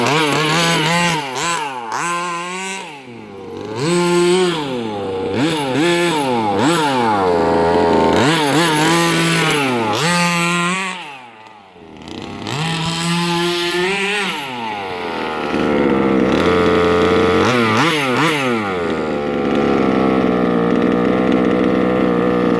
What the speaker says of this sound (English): I've got to give it quite a bit of gas before the clutch starts kicking in